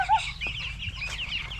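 Fifteen-day-old broiler chickens clucking and peeping nearby, a brief cluster of soft overlapping calls.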